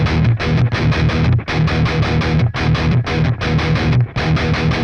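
Heavily distorted electric guitar chugs palm-muted chord stabs in a choppy, uneven accent pattern, loud and dry with brief gaps between bursts and no talking.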